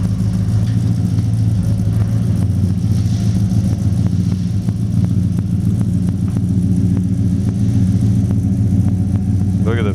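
A 1940 Ford Standard Business Coupe engine idles and rumbles steadily up close while backing out, with a low throaty drone and faint mechanical whir throughout.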